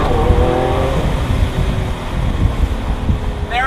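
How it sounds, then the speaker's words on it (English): A Lamborghini Aventador Roadster accelerates hard, its engine note rising in loud, close sweeps with a paddle-shift change near the end, heavy wind buffeting mixed in throughout. "accelerating in a Lamborghini Aventador"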